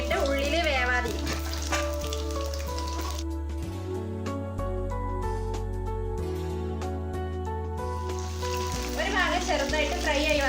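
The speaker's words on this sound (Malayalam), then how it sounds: "എണ്ണ ഒരു മീഡിയം ചൂടായാൽ നമുക്കതിലേക്ക് ചിക്കൻ ഇട്ടിട്ട് ഫ്രൈ ചെയ്തെടുക്കാൻ വേണ്ടിയിട്ട് ശ്രദ്ധിക്കണം" Chicken pieces for dragon chicken frying in medium-hot oil, giving a steady close sizzle with crackle throughout, while background music plays over it.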